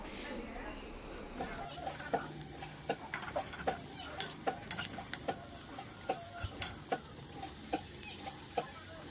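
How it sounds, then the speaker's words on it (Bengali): Potatoes fry in a pan with a soft sizzle while a utensil clinks and scrapes against the pan in a steady run of light taps, fairly quiet and close. "তো সেজন্য আমি এখন আলু ভাজা করব।"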